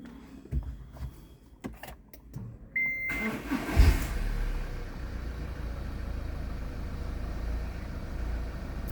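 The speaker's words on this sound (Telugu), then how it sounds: "సో వెహికల్ అయితే స్టార్ట్ చేద్దాం ఒకసారి." An MG Hector Plus SUV starts up after a few clicks and a short chime, the engine catching with a brief cranking surge and settling into a steady, muffled idle heard from inside the cabin.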